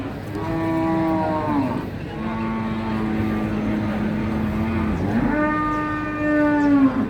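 Cattle at the Jatirogo livestock market, where Limousin and PO beef cattle are sold, give long drawn-out moos. Two or three sustained calls sit close and loud over a busy market background.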